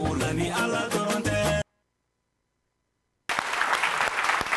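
Audience applause for a Zikr singer: music plays first, then after a moment of dead silence a crowd's clapping rises, steady and fairly loud.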